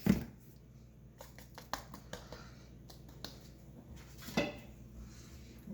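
Grandma-style homemade cinnamon muffin ingredients are stirred together in a bowl, giving a few sharp clinks and scrapes at an uneven pace, close and fairly quiet.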